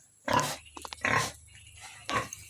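A pig on a farm gives three loud, close grunts spaced about a second apart, with a few softer short snorts between them and quiet background otherwise.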